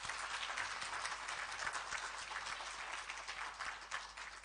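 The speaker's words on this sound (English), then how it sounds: "I would like you to give a big round of applause for each one of them." Steady, dense applause from an audience at a literary festival panel, a continuous wash of many hands clapping at moderate distance and fairly low level, with no talking over it.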